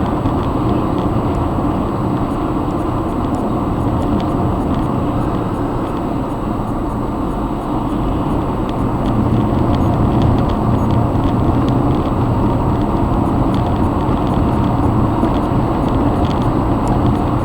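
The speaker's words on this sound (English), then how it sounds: "This traffic during the middle of the day is not too bad." Midday road traffic on a highway with a low snow-capped hill nearby, a steady dense rumble of passing cars that swells slightly in the second half, loud and close with no talk.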